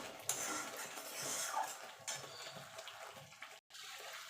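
Spices being stirred and mixed in a pan while cooking a vegetarian white potato curry (aloo dum): scattered metallic scrapes and clinks of a spoon against the pan over a soft, wet sizzling background, close and fairly quiet.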